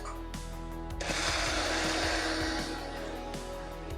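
A kitchen blender whirs loud and steady, purées mango pieces into a creamy mango lassi, sharpening into a harsher, brighter roar after the first second, then holding close and continuous to the end.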